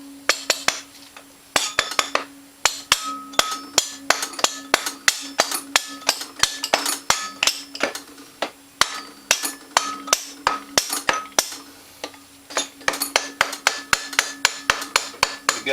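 Repeated sharp metallic hammer taps drive a 2020 Honda Foreman 520 engine case down over its dowels on a 2010 Honda Rancher 420 ATV, coming in quick bursts of loud, close strikes with brief pauses between.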